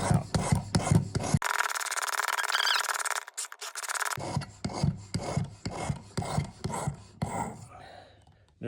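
Broadhead arrow tips are sharpened on a Stay Sharp Precision knife sharpener, giving a close series of rhythmic rasping strokes, with a brief steady hiss partway through and a few quiet words spoken.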